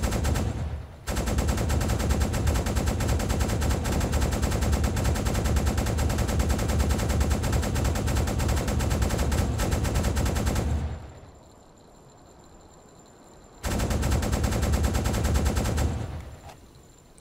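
Quad flak gun in the Uboat submarine game firing a long, loud, continuous burst of rapid automatic fire, a brief pause, then a second shorter burst that tails off.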